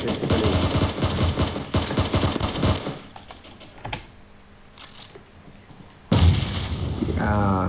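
Rapid bursts of PUBG gunfire and blasts, then a quieter stretch with faint clicks, followed by a sudden loud bomb explosion near the end.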